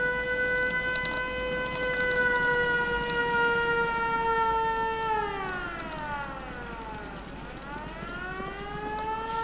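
An air raid siren sounds during a settlement attack in the Fallout 4 video game, a loud steady wail that winds down in pitch and then climbs back up.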